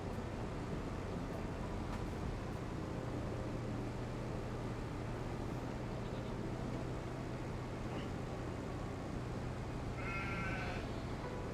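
Sheep in the video game Farm Sim 25 bleat faintly against a steady hiss of farm ambience, with a brief cluster of calls near the end and no talking.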